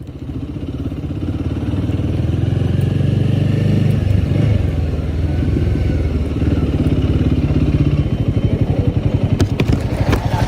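A Royal Enfield Guerrilla 450 motorcycle engine drones loud and close, its steady throbbing exhaust pulse rising slightly as it pulls in second gear, ending in a rapid firing beat.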